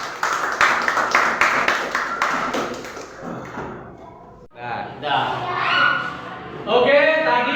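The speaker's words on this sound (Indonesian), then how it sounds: "Kita beri tepuk tangan untuk kelompok 1." Classroom applause for a student group after a presentation, a burst of hand clapping that fades, then a thud and muffled voices and movement as the room resettles.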